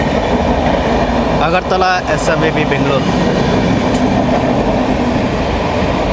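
An express train stands at Gudur Junction station on the Tirupati to Puri route with LHB coaches, its steady rolling rumble filling the platform while an announcement and nearby voices carry over it throughout.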